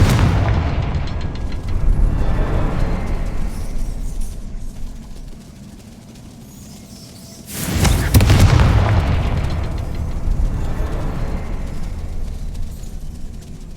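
Confringo blasting spell from Hogwarts Legacy, a loud booming explosion that starts sharply near the middle and rolls on, with rumbling battle noise before and after it.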